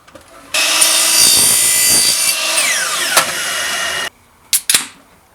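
A saw cuts through a PVC spacer in a steady, rasping stretch of strokes lasting about three and a half seconds, close and loud, followed by a couple of sharp knocks of the workpiece.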